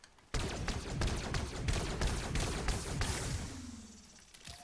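Rapid bursts of laser-rifle fire from a Fallout tri-beam weapon in Fortnite, a dense, steady stream of sharp zapping shots that trails off into a recharge hum near the end.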